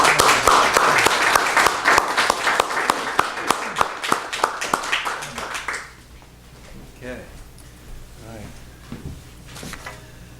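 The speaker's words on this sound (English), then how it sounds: "someone else who needs a round of applause, Alan Casline" An audience at an open mic poetry reading claps in a burst of applause that fades out after about six seconds, followed by quieter room noise and a few faint sounds.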